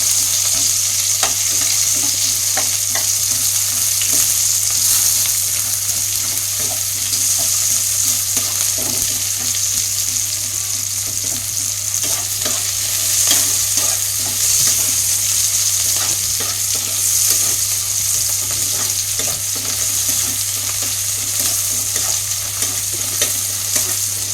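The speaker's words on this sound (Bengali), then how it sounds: "পেঁয়াজটাও আমি ভাজা ভাজা করে নেব।" Onions sizzling and crackling in hot oil, with occasional scraping of a spatula stirring them; a continuous close frying hiss with no talking.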